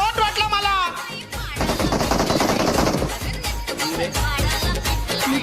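Rapid automatic gunfire in BGMI crackles in dense bursts through the middle stretch, with excited voices talking over the shooting before and after.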